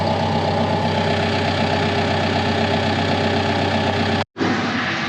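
A Doosan dozer's diesel engine idles steadily while warming up, a close, loud, even rumble with a faint knock. It cuts out briefly near the end.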